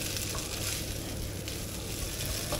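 Food sizzles and fries in a frying pan, with a continuous, fairly loud crackling hiss and no talking.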